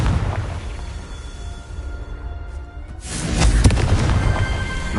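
A Confringo blasting spell in the Hogwarts Legacy video game, a loud close explosive burst with rumbling crackle after a brief quieter lead-in.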